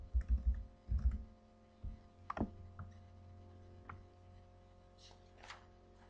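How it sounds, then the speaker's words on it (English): Computer mouse clicks sound while renaming a folder on a Windows computer: a few quiet, close, sharp clicks spread across a few seconds over soft low background thumps, with no talk. "Right-click on the folder, left-click on Rename, then rename the folder."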